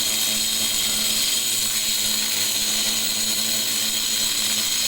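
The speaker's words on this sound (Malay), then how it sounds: "Kita punya pekerja tengah potong" A power tool cuts at a construction site so a lintel can be fitted above a window, a loud, steady grinding whine that runs without a break for the whole stretch.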